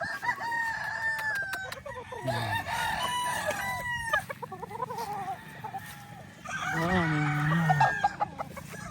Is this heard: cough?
no